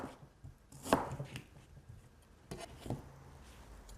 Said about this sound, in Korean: 배는요, 이렇게 납작하게 이렇게 썰어 넣으면 됩니다.